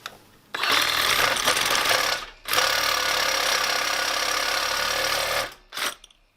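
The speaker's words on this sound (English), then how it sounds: "we will be cutting out with the Sawzall the inside of these bushings" A reciprocating saw with a metal blade cuts out the inner race of car suspension bushings on a Nissan 350Z, a loud, rapid buzzing rattle in two long bursts with a brief pause between, ending in a short final burst.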